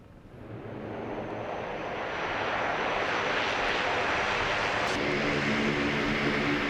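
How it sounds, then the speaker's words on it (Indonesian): A US military bomber lands in the Middle East, its jet engine roar loud and steady, building over the first few seconds and then holding as one continuous broad rush with wind noise and no speech. "Presiden Amerika Serikat Donald Trump membagikan video pesawat bomber Amerika Serikat mendarat di Timur Tengah"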